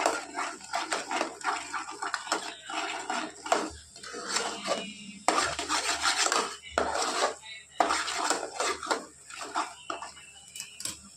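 Red chilli powder, coriander powder, onion-garlic masala and salt being sautéed in oil and mutton fat in a pan for a mutton curry, with steady scraping and clinking of a spoon against the pan and a soft sizzle throughout.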